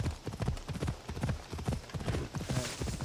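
Horse hooves galloping in Assassin's Creed Odyssey, a fast, steady clip-clop rhythm of hoofbeats running loud and close throughout, with the rider staying silent.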